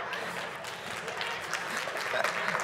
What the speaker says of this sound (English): my cheering section over here applauding because I pronounced it right this time